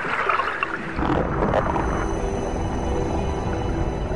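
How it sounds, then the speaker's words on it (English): Whale clicks picked up by an underwater microphone, a loose stream of sharp clicks over murky, rushing water noise, fairly close and unaccompanied by speech. "whales communicate using patterns of clicks known as coders"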